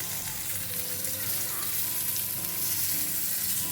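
Goan-style stuffed mackerel frying in a pan until golden on both sides, giving a steady, close crackling sizzle with occasional soft spatter, uninterrupted and free of speech.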